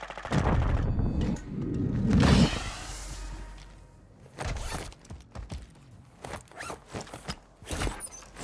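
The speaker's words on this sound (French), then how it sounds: "Je lui ai tiré dessus la roquette." Rocket launcher blasts in a first-person shooter game, a heavy whooshing burst swelling over the first seconds, then a few sharp bangs and thumps scattered through the rest, fairly close and loud.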